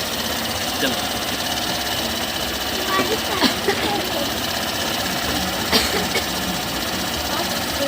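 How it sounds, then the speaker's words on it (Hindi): A vehicle engine runs steadily nearby, a continuous rough idling drone with faint knocking, while people talk over it. "इंजन चल रही है"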